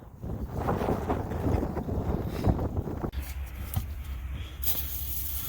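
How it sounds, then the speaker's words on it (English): Wind buffets a microphone outdoors during bus repair work on a Scenicruiser, a rough, gusty rumble with low thumps that shifts in character partway through. "Great, there's wind. People are going to complain."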